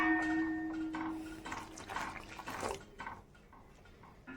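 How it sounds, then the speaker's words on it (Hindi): Hot water is poured little by little into wheat flour for steamed dough, giving soft intermittent splashing and trickling pours, moderately close, with no talk. "इस तरह से जो है थोड़ा थोड़ा पानी डालना है।"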